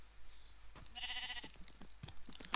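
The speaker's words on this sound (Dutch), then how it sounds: "Schapen, dat zijn schapen." Sheep bleat in the Minecraft video game, a short harmonic bleat near the middle of the clip with other game sounds and brief noises around it, no voices.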